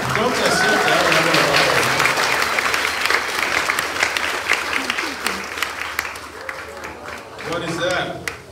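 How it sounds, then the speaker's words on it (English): An audience at a Samoan village show at the Polynesian Cultural Center claps along, a lively wash of clapping that thins and returns, with people talking and calling out over it. "Clap. Don't just sit there."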